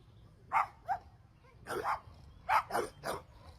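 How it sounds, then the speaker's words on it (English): A neighbour's playful pet dog that likes fetch barks in a spaced series of about six short woofs and yips. The barks are fairly faint and come without any talking over them. "As they bark, they probably want a toy."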